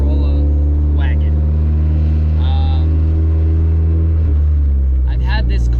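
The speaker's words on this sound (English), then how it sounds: "this is my 1983 Toyota Corolla wagon." A 1983 Toyota Corolla wagon driving, a steady low engine drone under someone talking inside the car, loud and continuous.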